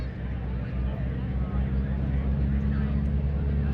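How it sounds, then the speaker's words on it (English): World War II aircraft, led by a North American T-6 Texan, throttle up at an airshow at Eielson Air Force Base in Alaska, a loud, continuous low engine drone under an announcer's voice. "Fast throttles are coming forward on some classic aircraft from World War II."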